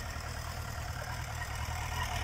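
A Suzuki Bandit 1200S motorcycle engine idling, a steady low rumble with a fast even pulse, close and constant throughout with no voices.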